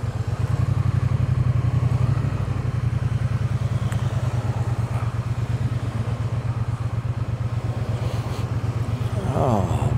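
A motorcycle being ridden gives a steady, close engine drone with a dense rhythmic pulse that holds for the whole stretch, rising slightly near the end, with wind noise over it.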